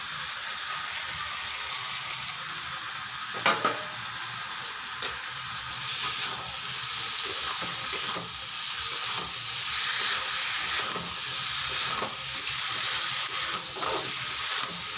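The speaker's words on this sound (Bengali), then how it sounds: "আমি এখন চিকেনগুলোকে দিয়ে দিচ্ছি আর আলুগুলোকেও দিয়ে দিচ্ছি।" Chicken pieces and potatoes fry in spiced masala for Bengali chicken kosha, a constant close sizzle broken by scattered scrapes and knocks of stirring.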